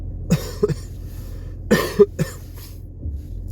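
Several short coughs close by, a couple in the first second, then a louder cluster of three, with quiet between them.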